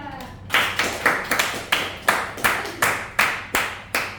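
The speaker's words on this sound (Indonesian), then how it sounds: "Boleh kita kasih aplaus buat kelompok 2." Classroom applause for a student group: a cluster of sharp, evenly spaced claps, about ten in rhythm, close and fairly loud, with a hint of voices.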